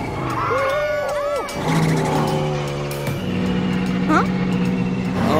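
Cartoon race car from a children's emergency-vehicle show, a loud engine hum that holds a steady pitch under music and voices, with sliding tones layered on top.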